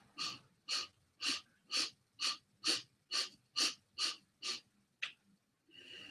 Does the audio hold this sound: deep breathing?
yes